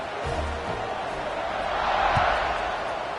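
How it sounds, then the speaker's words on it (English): Crowd noise at a high school football game between Miami Central and Chaminade, a steady broad murmur of spectators filling the stands after a touchdown, continuous and moderately loud with a slight swell in the middle. "this crowd is buzzing after that last score"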